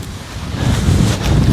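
Strong wind buffets the microphone on a paragliding hill, a loud, gusty low rumble that swells and roars steadily, with no speech.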